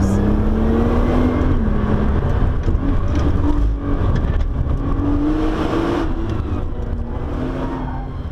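A 2015 Nissan GT-R NISMO with the Track Package laps the Nürburgring, its engine roaring loud and continuous from inside the cabin as it rises and falls in pitch through gear changes and corners.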